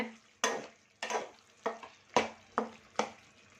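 Eggplant and drumstick vegetables cook in a pan, stirred in about seven sharp scraping strokes, each followed by a brief sizzle, with no talking.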